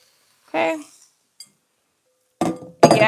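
Dishes and pans clink in a short kitchen clip during meal prep, a couple of quick clattering bursts close by, with a voice heard talking as well.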